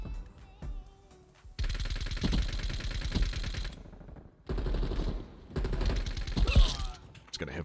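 Rapid automatic gunfire in a Call of Duty match, loud close bursts of rattling shots broken by short pauses, with three main volleys and a lighter tail of mechanical clatter.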